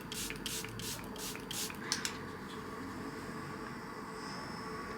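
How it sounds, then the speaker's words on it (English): Makeup setting spray mists out in several quick, hissing bursts close by, then fades to a faint, steady background hiss. "Now, last step, setting spray."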